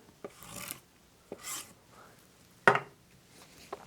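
Grip wax is rubbed into the base of a classic cross country ski in a few separate strokes, each a short rasping scrape with quiet gaps between.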